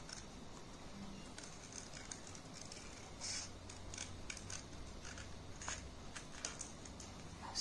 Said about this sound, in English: Be very careful while using scissors.